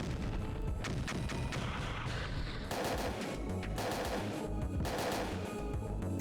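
A missile strike in Parasite Eve II lands amid heavy game combat, with booming blasts and rattling gunfire rolling over a constant loud wash of noise, surging twice in strong bursts.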